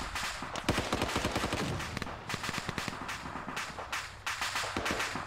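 Rapid machine gun bursts and scattered rifle shots crackle without pause in an Arma 3 firefight, a dense, loud exchange of automatic gunfire near and far, with no talking.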